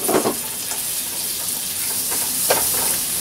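Margarine sizzles in a frying pan with a little oil, a steady close crackling hiss with a couple of brief louder spatters, no voices.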